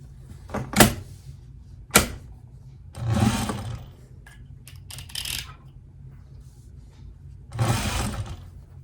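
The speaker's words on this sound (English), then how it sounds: "Now I'm going to baste these two edges together." A sewing machine bastes two edges of a wool cloche hat together in several short, separate bursts of stitching, with small clicks and pauses between runs, nearby and moderately loud.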